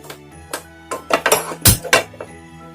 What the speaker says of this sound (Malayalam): ഞാനിപ്പോ ഒരു പാൻ വെച്ച് കൊടുത്തിട്ടുണ്ട്.